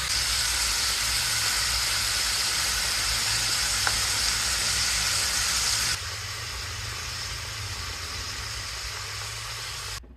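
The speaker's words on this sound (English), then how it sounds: "I'll just pick y'all up when she start frying the sausage up." Deer sausage frying in a pan beside a pot of rice, a steady close sizzle with bright hissing that drops a little quieter partway through and carries on without any talk.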